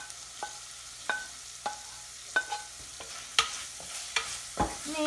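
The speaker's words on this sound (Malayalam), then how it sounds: "ഇനി ആ ഉള്ളിയായിട്ട് കക്ക ഇറച്ചി ഒന്ന് മിക്സ് ചെയ്യാം" Cooked clam meat, boiled with turmeric and salt, being stir-fried with sautéed onions for a clam thoran, with a spatula scraping and tossing in a series of distinct, evenly spaced strokes over a soft sizzle.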